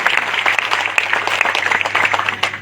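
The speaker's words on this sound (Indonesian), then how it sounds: "Sekali lagi tepuk tangan yang paling meriah bagi" A church congregation at a revival service in Tentena claps enthusiastically, a dense, lively burst of applause with scattered sharper claps, loud and close, with a faint voice beneath.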